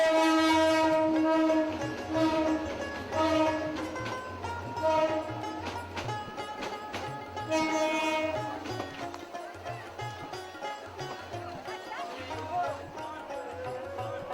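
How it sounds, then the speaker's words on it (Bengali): The Kushiara Express pulling into a railway station, its horn sounding in long, loud blasts over the rumble and clatter of the carriages, with voices on the platform mixed in beneath. "কুশিয়ারা ট্রেন এলো স্টেশনে।"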